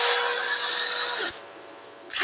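A Parkside PDSSAP 20-Li D3 cordless impact driver runs with a fault, giving a loud, steady high whir for about a second and a half before cutting out, then briefly spinning up again.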